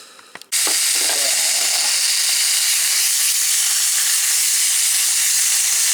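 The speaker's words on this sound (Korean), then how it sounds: "재우긴 귀찮고 바로 구워 먹어보도록 하겠습니다" Jeju horse meat bulgogi hits a hot pan and bursts into loud, steady sizzling that holds close and even after a few quiet clicks at the start.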